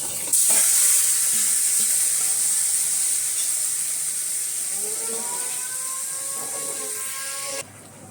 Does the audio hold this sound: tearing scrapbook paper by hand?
no